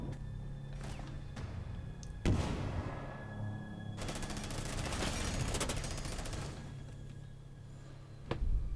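Rapid bursts of automatic gunfire in a video game shootout, with a sharp crack followed by a long, dense rattling volley and a final loud shot, all fairly close.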